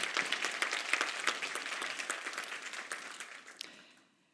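Audience applause at a talk honoring the event organizers, a dense burst of many hands clapping that stays steady, then thins and fades out toward the end.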